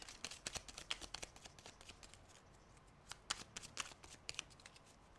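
A deck of oracle cards is shuffled close by, giving quick, soft riffling flicks and slaps in uneven bursts with short pauses between them.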